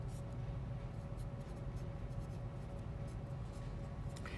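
Pen or marker writing out a vector field on a board or paper, a soft continuous scratching close by over a low steady room hum, with no voices.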